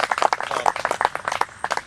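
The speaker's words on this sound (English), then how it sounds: "A round of applause for Coach Clendenning." Scattered applause at an outdoor memorial marker dedication ceremony, a thin, modest round of individual claps from a small gathering, fairly quiet and brief.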